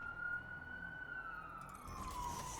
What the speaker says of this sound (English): so I hear sirens every day.